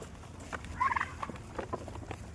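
A fowl calls at a farm, one brief throaty burst followed by a few soft scattered clucks, fairly faint and with no speech.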